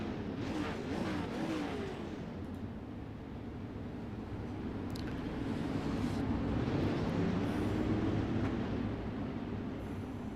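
Dirt late model race cars circle the Fairbury track in a PRO Sidewinder Dirt Series event, their engines making a steady, loud roar that fills the whole stretch with no talking over it.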